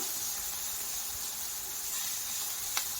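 Onions fry in a pan for paneer bhurji, producing a loud, continuous close-up sizzle with a brief sharper spit near the end and no talking.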